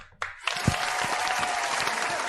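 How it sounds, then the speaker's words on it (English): An audience breaks into steady applause after a brief pause, a dense wash of clapping that swells quickly and holds at an even level, heard fairly close at a religious radio broadcast event. "Give them a round of applause, y'all."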